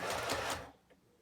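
A sewing machine backstitching a seam, a short steady mechanical whir that stops after half a second and is followed by a faint click, close by, with no talking.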